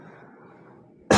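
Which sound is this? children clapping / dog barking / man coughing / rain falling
man coughing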